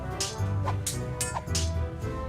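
A cartoon dog in Tales of Monkey Island gives several quick, close barks and yips over a soft musical background.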